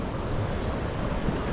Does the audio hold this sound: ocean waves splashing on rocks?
yes